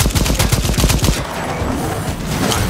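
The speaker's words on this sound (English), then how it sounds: "Not good with this shotgun." Rapid shotgun blasts in Second Extinction, a co-op dinosaur shooter, sound as a dense, loud volley of sharp reports over about a second, then a quieter stretch of game ambience.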